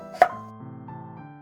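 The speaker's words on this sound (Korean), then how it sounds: "너무 두꺼우면 안 익으니까 얇게 썰어 주세요." Single sharp knife stroke through a raw potato on a cutting board while slicing it thinly, one crisp close cut followed by faint ringing quiet.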